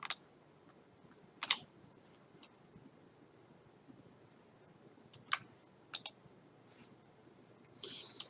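A computer mouse gives a few sharp, quiet clicks, single and doubled, scattered over a faint hum of room and fan noise.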